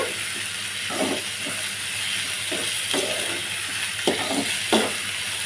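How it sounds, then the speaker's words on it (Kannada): Onions and curry leaves frying in oil in a pan, a steady close sizzle and hiss with occasional louder scraping bursts from stirring, and no talking. "ಈರುಳ್ಳಿ ಮತ್ತು ಕರ್ಬೇವು ಎರಡು ಹಾಕ್ಕೊಂಡಿದ್ದೀನಿ ಚೆನ್ನಾಗಿ ಫ್ರೈ ಆಗಬೇಕು ಈರುಳ್ಳಿ"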